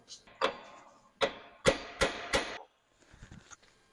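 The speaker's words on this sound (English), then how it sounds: "we're going to have to tap this yoke out from the back side so we can get to the seal" Hammer taps knock a differential pinion yoke out from the back side, about five sharp metallic strikes in an uneven rhythm close up, followed by a few lighter clinks.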